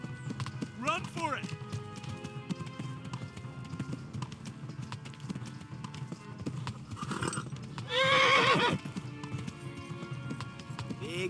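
Horse hooves clip-clop steadily in the medieval game Kingdom Come: Deliverance, with a bright neigh early on and a louder whinny near the end, while someone talks over the gameplay.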